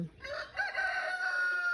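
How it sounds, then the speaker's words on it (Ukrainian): A rooster crows once, a drawn-out, fairly distant call rising and holding before fading, alone with no talk. "півень"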